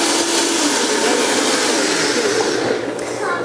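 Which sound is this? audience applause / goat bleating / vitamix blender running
vitamix blender running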